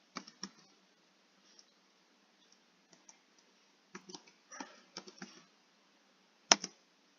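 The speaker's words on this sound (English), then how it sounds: "So we're going to type generate." Sparse, quiet keystrokes on a computer keyboard come in small clusters and scattered single clicks, ending with one sharper tap, in an otherwise silent room.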